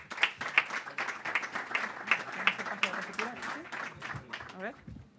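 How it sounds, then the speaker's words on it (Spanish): A small audience at an academic young researchers' event claps in distinct, fairly rhythmic beats rather than a dense roar, with voices talking over and between the claps. "un fuerte aplauso"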